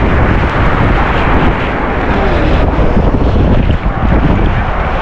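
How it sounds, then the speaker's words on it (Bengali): Waves slap against a boat on the water between Puri and Chilika, the sound forming a loud, constant rush mixed with heavy wind buffeting the microphone. "জলের বাড়ি মারছে রে ও"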